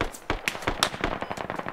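Rapid gunfire in the Squad military shooter game, a burst of sharp cracks in quick irregular succession, fairly close and loud, with no talk over it.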